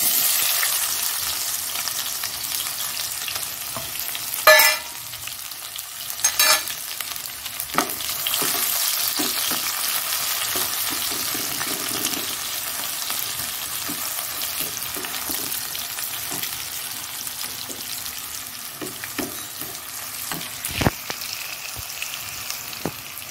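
Onions fry in a pan with a constant bright hiss, close and even, while a utensil stirs through them with occasional scrapes and a couple of sharp knocks against the pan; nobody speaks.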